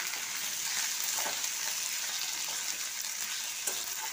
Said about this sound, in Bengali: দিয়ে ভালোভাবে নেড়ে নিচ্ছি।